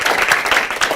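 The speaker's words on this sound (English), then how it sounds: "if everyone could just give a big, warm round of applause" Brief, dense burst of audience applause welcoming the keynote speaker at a talk on virtual worlds, a steady close wash of many hands with no voices.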